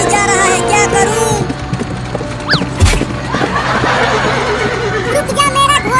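A horse whinnies loudly over a dense, noisy outdoor background with faint hoof sounds, in a slapstick chase scene; a voice may be mixed in.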